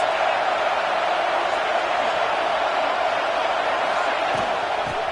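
A stadium crowd at an Ohio State versus NC State college football game roars steadily on a big third down, a loud continuous wash of cheering with a commentator talking over it.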